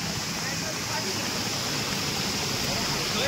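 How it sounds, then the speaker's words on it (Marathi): A hidden waterfall in forest on a plateau near Gavrai village pours with a steady, dense roar of rushing water that stays loud and unbroken throughout, with no pauses. "अप्रतिम असो धबधबा"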